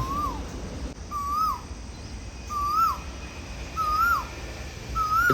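An Asian koel repeats a rising, swooping call four times at steady intervals, clear against a soft outdoor background of distant noise.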